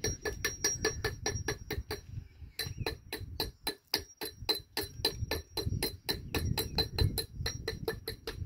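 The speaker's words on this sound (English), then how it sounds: "Just chop off with a scratch hammer." A scratch hammer chops and dresses stone being placed in a wall: a steady run of about thirty sharp, ringing strikes with a brief pause near the middle, heard close up.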